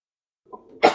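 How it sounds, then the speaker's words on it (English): A single short, sharp cough from a person, close and loud, preceded by a brief throaty intake, with silence before it. "God, I have a cough now."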